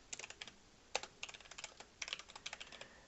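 Steady keystrokes tap on a computer keyboard while a short text file is written, the clicks moderately close over a quiet hiss, with one louder key strike partway through; no talking.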